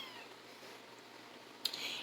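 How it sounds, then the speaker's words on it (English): A kitten lets out a loud meow near the end, after a stretch of quiet room noise, with one or two further calls trailing off. "my kitten is here making loud noises"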